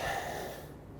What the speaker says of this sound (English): Big deep breaths